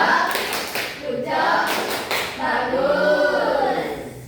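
A classroom group claps a rhythmic 'tepuk good job' chant during a microteaching lesson, with bursts of hand claps mixed with children's and teacher's chanting voices at close range.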